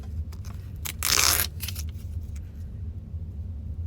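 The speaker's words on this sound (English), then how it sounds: "now you just pull your paper off" Foundation paper is torn away from freshly stitched quilting fabric for half square triangles, giving a single short, crisp ripping burst over a quiet room hum.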